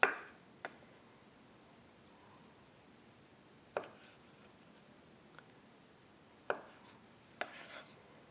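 A knife thinly slices bologna on a cutting board in a quiet room, giving a handful of sharp, irregular taps spaced a second or more apart, faint and close, with no talking.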